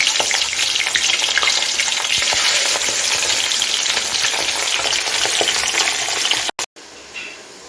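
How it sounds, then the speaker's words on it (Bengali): Pabda fish frying in hot mustard oil in a wok, a dense, steady crackling sizzle that fills the scene until two brief dropouts near the end, followed by a quieter tail. "কড়াইতে সর্ষের তেল দিয়ে আমি গরম করে নিয়েছি আমি সর্ষের তেল এখন মাছটা দিয়ে দিচ্ছি আমি মাছটা সর্ষের তেলে ভাজবো"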